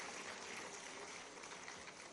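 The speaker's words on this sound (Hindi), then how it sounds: "जोरदार तालियां बजाओ।" Sustained applause from an audience honoring Olympic and Paralympic 2024 medal winners at a government felicitation ceremony, a steady dense wash of clapping at moderate level with no talk over it.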